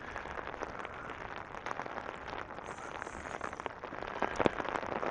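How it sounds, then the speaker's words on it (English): Light rain falls steadily on outdoor surfaces while walking through Regina in June, a soft, even patter of drops with occasional sharper splashes close by. "Sort of light rain."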